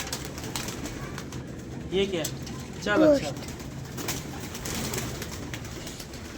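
Pigeons in a loft making soft throaty coos, a couple of clearer calls rising briefly, while people talk close by over the birds.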